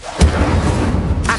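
An Incendio fire spell cast in Hogwarts Legacy bursts with a loud, deep whoosh-boom, then a sustained roaring rumble of flame for about a second before a second flare at the end.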